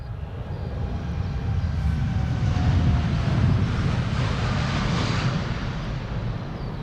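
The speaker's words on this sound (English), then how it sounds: "TUI flight 365 going to Willemstad, Curaçao" A TUI Boeing 787-8 Dreamliner, registration PH-TFJ, departs Amsterdam Schiphol for Willemstad, Curaçao, its engines a deep, steady rumble that swells in the middle and then holds.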